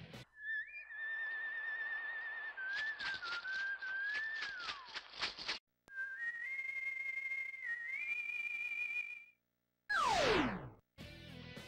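The trademark whistle of the android Hakaider from the Kikaider series plays as a shrill, melodic tune, held notes and wavering phrases broken by short gaps and a sharp descending swoop near the end.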